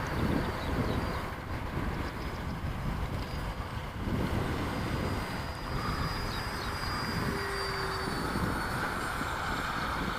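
A Freewing Stinger 64mm RC jet flies outdoors, its ducted-fan engine a steady, rushing whine with a faint high tone. It holds at a fairly even level throughout as the plane passes at speed.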